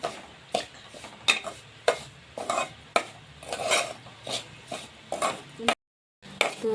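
Semolina roasting in a generous amount of ghee for sheera, stirred with steady scraping spoon strokes against the pan, repeated roughly twice a second with a brief silent gap near the end and no speech.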